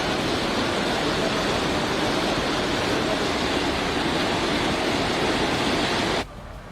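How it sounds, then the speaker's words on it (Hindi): Floodwater from heavy monsoon rain rushes through city streets in India like a river, a loud, unbroken roar of moving water that cuts off abruptly near the end. "सड़कों पर उफनती नदी की तरह पानी बहने लगता है"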